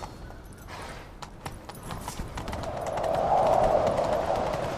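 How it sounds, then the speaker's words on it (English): Rapid hoofbeats of a horse galloping in The Witcher 3 video game, a steady clip-clop rhythm that swells louder toward the end with a rushing whoosh. "Grab a horse, we'll chase him down."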